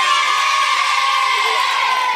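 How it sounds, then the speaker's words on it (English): A studio audience at a 1997 children's game show cheers and shouts loudly, a continuous roar of excited, high-pitched young voices with whoops that holds steady throughout. "Give them a massive round of applause."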